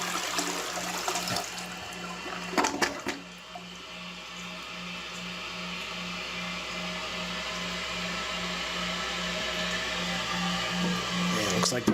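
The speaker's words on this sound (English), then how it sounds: "So let's see here, we'll flush it." A toilet with an old ball cock fill valve is flushed and its tank refills, a steady rushing hiss of running water with a low hum continuing throughout.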